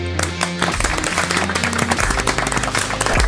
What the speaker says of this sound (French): Merci de faire un tonnerre d'applaudissements.